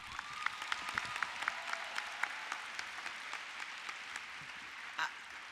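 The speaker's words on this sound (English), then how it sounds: "let's give those scholars another applause." An audience at a high school graduation ceremony applauding the scholars, a continuous, fairly distant wash of many hands clapping with scattered sharper claps and a brief louder thump near the end.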